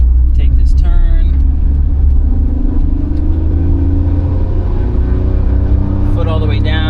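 Daihatsu Move turbo car under hard acceleration, a deep engine drone that rises in pitch steadily, heard from inside the cabin while people talk over it.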